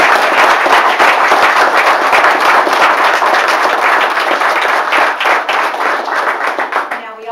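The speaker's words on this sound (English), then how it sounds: "Let's give them a round of applause." Crowd applause at a civic economic-development announcement in Lincolnton, loud dense clapping spread across the room, holding steady for several seconds before thinning out toward the end.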